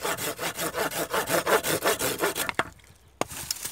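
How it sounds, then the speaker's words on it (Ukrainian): A Gruntek garden hand saw cutting through a tree branch, close rhythmic rasping strokes back and forth that stop abruptly, followed by a couple of faint knocks. "Ну і зараз ми попробуємо зробити зріз."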